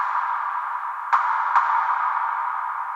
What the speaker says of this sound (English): we can hear that it's adding like a echo sound to it.